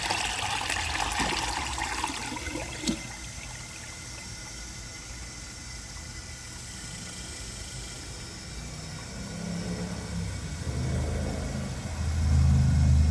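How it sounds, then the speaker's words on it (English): A 2007 Crane Elite toilet flushes with the handle held down, a steady rush of water running on for several seconds, one brief click near the start, and a louder gurgling swell building at the end. "I'm going to do another flush, and I'm going to hold the handle"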